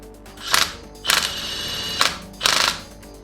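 A Milwaukee M18 Fuel compact half-inch impact wrench works a tight nut loose in four short, sharp hammering bursts, close and loud, separated by brief pauses.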